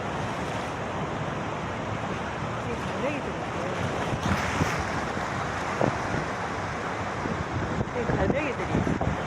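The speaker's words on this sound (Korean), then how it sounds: "파도가 거세게 몰아치는데 갯바위에 갈매기가 있네요" Rough surf pounds the coastal rocks at Jukbyeon on the Uljin coast of the East Sea, a continuous loud roar with heavier surges toward the end, mixed with strong wind buffeting the microphone.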